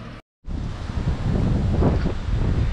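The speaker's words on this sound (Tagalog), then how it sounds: "pabugso-bugso yung hangin. Lumalakas yung hangin na yun." Gusts of wind from an approaching typhoon buffet the microphone, a rushing roar that swells and strengthens after a brief silent gap.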